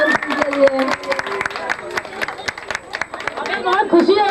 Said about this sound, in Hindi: एक जोरदार तालियां सुमन सिंह के लिए।